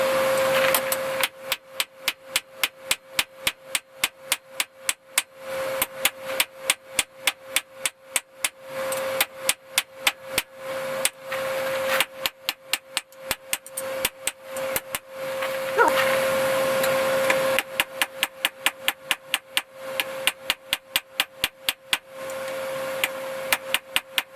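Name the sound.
hammer forging steel knife blank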